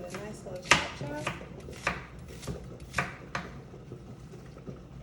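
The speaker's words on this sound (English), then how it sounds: "I'm going to chop these peppers up and onions and add those in." A knife roughly chopping peppers and onions on a cutting board, about nine crisp, uneven knocks spread over a few seconds, close and fairly quiet with no voices.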